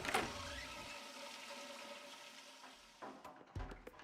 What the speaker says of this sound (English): Great, you had to hear the toilet flushing.